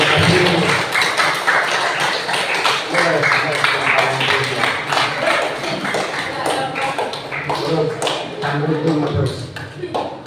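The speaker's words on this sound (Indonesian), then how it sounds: "Tepuk tangan." A room full of people at a school anti-drug outreach session claps in a dense, continuous patter of sharp hand claps, with voices mixed in throughout.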